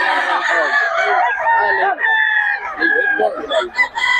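Roosters at a gamefowl gathering in Bocaue crowing loudly and close, several overlapping calls one after another with clucks mixed in.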